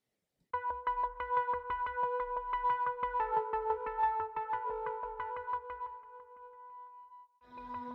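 Layered synth built in Alchemy, additive and square layers stacked together, playing a punchy rhythmic pattern of bright plucked tones over a low pulsing kick, steady for about seven seconds before a held note fades into a short new phrase.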